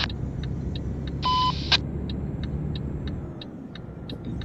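A car idles with a steady low engine rumble, broken by evenly spaced ticking clicks and a brief electronic beep before it pulls away, all close and without talking.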